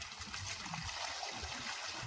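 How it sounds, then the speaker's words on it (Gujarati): Water flows on its own in a steady, quiet rush, a continuous soft trickling and splashing heard from close by. "ઓટોમેટિક પાણી આવે"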